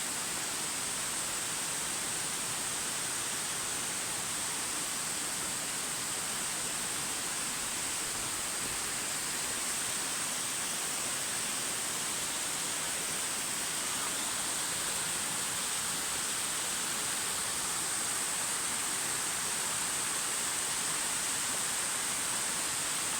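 The Amagoi waterfall roars as a steady, dense, broadband rush, loud and unbroken throughout with no other sounds over it.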